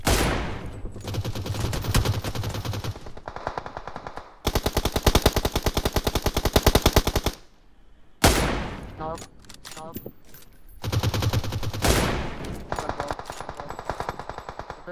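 Loud bursts of automatic gunfire in PUBG Mobile, rapid rattling volleys cut by short pauses, with one quieter gap before the firing resumes.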